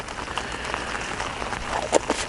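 Steady rain patters on a surface nearby at a lake, a soft continuous hiss with scattered drops, and no talking.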